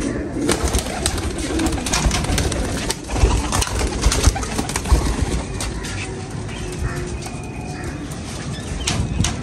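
Pigeons coo repeatedly at close range over a steady rustling outdoor background, with no talking.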